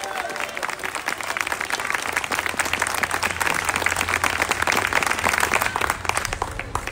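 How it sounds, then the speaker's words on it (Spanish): Dense crowd applause at an open-air evangelistic campaign in a public plaza in Trujillo, Peru, steady clapping from many people filling the whole stretch, loud and continuous with a faint murmur underneath. "Si le va a dar palmas al Cristo de la gloria,"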